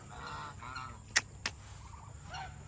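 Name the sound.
geese honking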